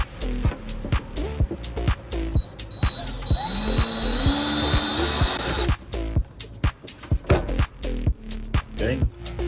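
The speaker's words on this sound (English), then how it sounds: "I'm gonna drill a hole right here, another hole right here" Bursts of a power drill whine, starting and stopping repeatedly, with a longer sustained run in the middle; loud and close, drilling holes in PVC for a fender board.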